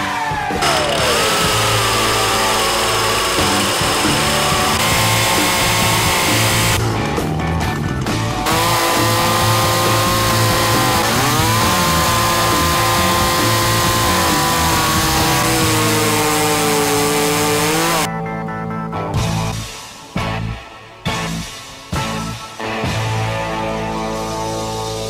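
A loud chainsaw runs and cuts a block of round wood, its engine pitch dipping and rising under load, then revving in short bursts with brief pauses near the end.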